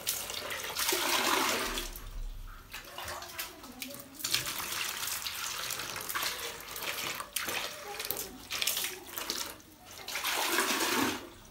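A household WC toilet flushing, with a loud steady rush of water that swells and fades over several seconds, and brief voices faintly underneath.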